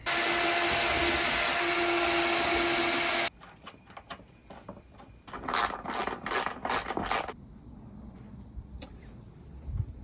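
A power drill bores holes, whirring loudly and continuously for about three seconds before stopping. Bursts of ratcheting mechanical clicks follow at close range.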